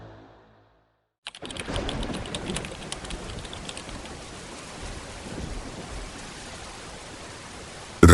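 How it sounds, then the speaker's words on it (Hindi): Heavy rain pours down in a dense, continuous hiss after a brief silence, steady and enveloping with faint rumbling undertones, no voices present. "तेज बारिश हो रही थी"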